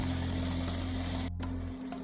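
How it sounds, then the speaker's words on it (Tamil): Water pouring steadily into Seeraga Samba rice for mutton biryani, a continuous close rushing splash that briefly cuts out near the end, with no talk. "இப்போது தேவையான அளவுக்கு தண்ணி ஊற்றி விசில் விட போகிறோம்"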